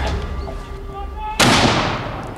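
A Napoleonic-era muzzle-loading cannon at a Waterloo reenactment fires once, a sudden loud boom at about 1.4 seconds that decays over the following second, after a stretch of low background noise and faint tonal hum.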